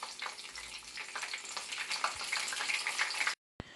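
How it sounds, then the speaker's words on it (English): A piece of pepper and two garlic cloves fry in hot oil for escovitch fish, giving a steady close crackling sizzle that cuts out abruptly near the end and then returns briefly. "I'll be adding a piece of pepper and 2 cloves of garlic to the oil"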